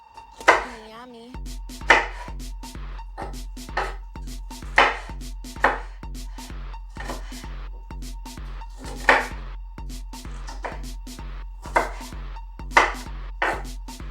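Peppers and onions are cut into small bite-sized pieces, a knife striking a board in a steady series of sharp, close chops with brief pauses, over a faint low hum.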